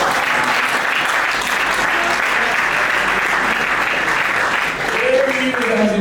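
Audience applauding for the head of state at a semi-final eloquence contest, a dense, steady wash of clapping filling the room for six seconds, with a few voices rising near the end.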